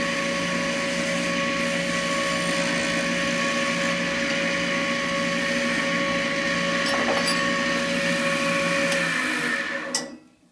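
A wood lathe hums steadily and loudly as a tool makes a cleaning cut on the tenon of a turned chair rung. The close, continuous whir holds for about nine seconds before spinning down and stopping.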